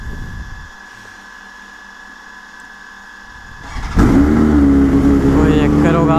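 A BMW S1000RR sport motorcycle engine cold-starts and settles into a loud, rough, high idle with blips of revving, preceded by a few seconds of quiet room tone; nearby voices can be heard.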